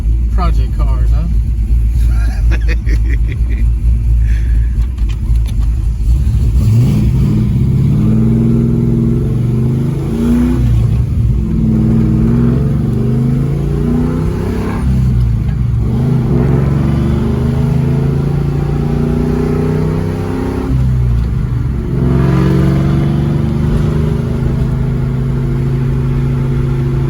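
A 1998 Cobra car engine rumbles loudly and continuously at close range, with several rev swells rising and falling throughout.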